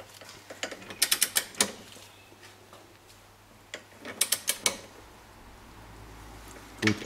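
A ratchet tightens a strut (Druckstrebe) bolt on the front axle of a BMW E34 while polyurethane bushings are fitted, giving two bursts of quick clicking, close and fairly loud, with a few isolated clicks between and no talking.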